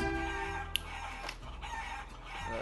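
Chicken clucks and crows in the Guacamelee video game, a few short sharp calls over steady game music and sound effects.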